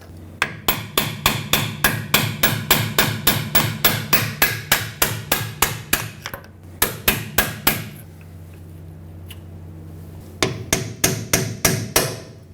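Hammer tapping out a brake hose locking clip on the rear axle of a 2011-2016 Ford F-350: a fast, steady run of sharp metallic taps, a pause, then another short burst of close, loud strikes.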